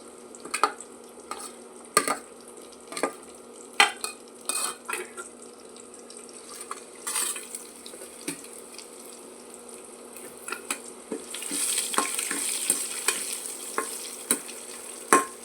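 Curry leaves sizzling in hot oil in a pan while a spoon stirs and scrapes them, with repeated clinking strikes over a steady frying hiss that grows louder toward the end, with no talking.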